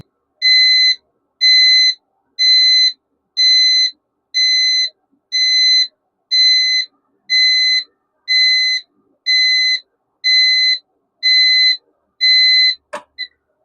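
An earthquake detector alarm built from industrial devices beeps loudly in a steady rhythm, about a dozen evenly spaced high-pitched pulses, ending with a short click.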